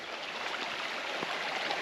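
Clear creek water trickling and splashing over a small rocky fall in a remote creek, a steady broadband burble close by with no voices.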